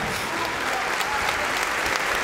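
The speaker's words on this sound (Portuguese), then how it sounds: "Vamos aplaudir, minha gente, vamos aplaudir mais." A church congregation applauds during a sermon, producing a thick, continuous wash of clapping at even loudness throughout, with no distinct voices over it.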